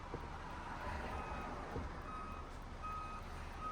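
A truck reversing sounds steady, evenly spaced electronic backup warning beeps over a low, rumbling engine idle. The beeps are moderately faint and continue throughout.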